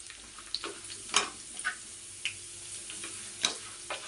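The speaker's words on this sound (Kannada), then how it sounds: "ಆಲ್ಮೋಸ್ಟ್ ಕಡಲೆಕಾಯಿ ಬೀಜನ ನಾನು ಫ್ರೈ ಮಾಡಿದ್ದೀನಿ." Urad dal and peanuts frying in a pan, a quiet steady sizzle broken by scattered light ticks and pops from the lentils and nuts, close by with no voices.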